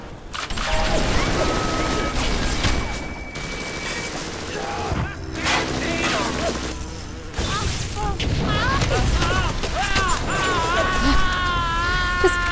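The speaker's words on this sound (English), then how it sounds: "Being electrocuted, then exploding into flames." An enemy in the video game Bioshock explodes into flames amid loud booms, crashes and rapid gunfire during dense combat, with electrical crackling, music and speech running over it.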